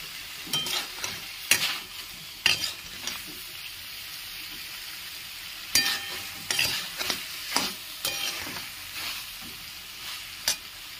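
Vegetables for dalia frying in a pan, a continuous sizzle broken by repeated sharp scrapes and clinks of a spatula stirring, close and without talk.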